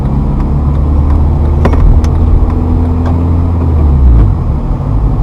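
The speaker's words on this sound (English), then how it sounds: "clutch up to bite, little gas, car rolls, clutch out" A manual-transmission car pulls away after a left turn, its engine droning close and loud as the revs climb steadily, with a few light clicks and knocks over the low hum.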